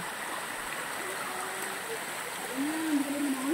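Weak current of water flowing at Tarias Falls, a steady soft broadband rush; a faint rising whistle or voice-like tone appears near the end.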